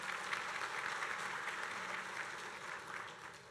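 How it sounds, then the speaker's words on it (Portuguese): An audience at an opening ceremony applauds in a steady, dense wash of clapping, fairly faint and distant, with no other sounds over it. "Uma salva de palmas, por gentileza."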